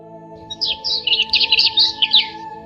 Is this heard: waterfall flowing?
no